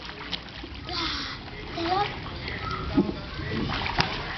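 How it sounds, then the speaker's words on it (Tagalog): Children splash about while swimming, with irregular splashes and sloshing water mixed with their excited voices and chatter. "nagsiswimming kami, Martin."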